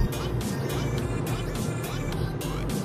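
A car drives along a highway toward Phoenix, Arizona, heard from inside as a loud, even low rumble of engine and tyre noise with a faint pulsing hiss above it.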